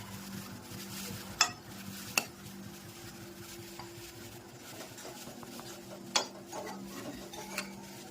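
Tanjaliya greens sizzle in a hot tempering pan while a spoon stirs, soft steady frying hiss broken by a few sharp clinks of utensil against the pan, with faint background hum.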